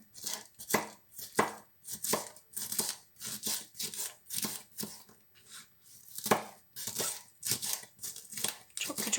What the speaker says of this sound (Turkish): Acı sosumuzun içine doğramak için şöyle süs biberleri yine çok küçük olmamak şartıyla gelişigüzel doğruyorum.